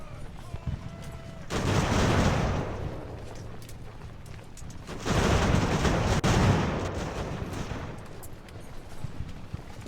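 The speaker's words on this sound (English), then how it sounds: "320 men firing their rifles and not many hits." Two rolling musket volleys from a large infantry line in an Age of Sail battle game, each a dense crackling burst lasting a couple of seconds before fading into softer scattered shots and battle ambience.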